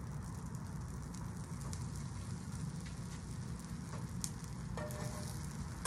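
Panini sizzling garlic-paste side down on a Blackstone griddle, a steady, even frying hiss filling the whole stretch with a few faint pops and clicks on top.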